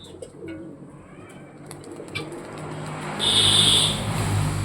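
Pet pigeons coo in soft, low, repeated calls nearby, with outdoor ambience and a brief whistle-like chirp partway through.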